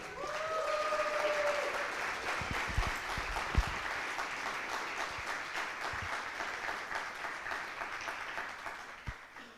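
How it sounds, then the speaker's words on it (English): Sustained applause from an audience at an awards ceremony during a research workshop, a steady dense patter of clapping filling the room and gradually thinning toward the end. "A round of applause"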